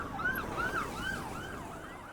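Ambulance siren in Indonesia, a wailing, rising and falling tone sweeping repeatedly over moderate distance above low road rumble, with no talking.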